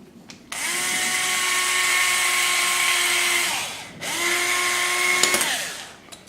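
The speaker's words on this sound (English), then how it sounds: "We'll drill a pilot hole, or we'll drill a pilot hole there," A power drill boring pilot holes in wood for a rail build, two close, loud whirring bursts with the motor pitch rising and falling at each start and stop.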